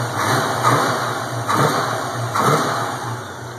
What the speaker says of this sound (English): I want you to hear this motor.